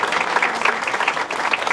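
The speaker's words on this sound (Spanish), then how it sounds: "Fuerte el aplauso." A school audience applauds at an end-of-year closing ceremony in Arroyo Hondo, a dense steady clatter of many hands with no break.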